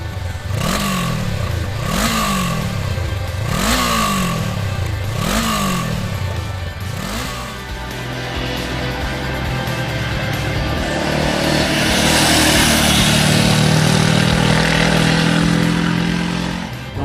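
A 2016 Honda CB500F with a 471 cc inline twin engine revs loudly in five quick rising blips, then settles into a steady, loud running drone that swells as the bike pulls away.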